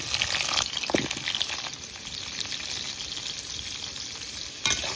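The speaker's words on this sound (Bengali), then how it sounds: "এখন আমি আলুটা ভেজে নেব।" Cut potatoes frying in hot oil in a pan, a busy crackling sizzle with occasional stirring clatter, close and steady for several seconds without any talking.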